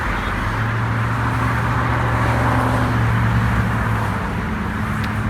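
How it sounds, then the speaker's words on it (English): Freeway traffic on I-17 late at night roars in a dense, unbroken wash of car and engine noise with a steady low hum. It is loud and constant, with no clear gaps between vehicles. "I-17 traffic, not so bad this late at night, but it's still a lot of noisy ass cars"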